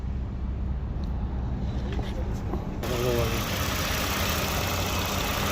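A 2013 Lexus ES350 engine idles steadily with the A/C compressor switched on, a low continuous hum that grows slightly louder and fuller partway through as the compressor kicks in, close to the listener with no talking.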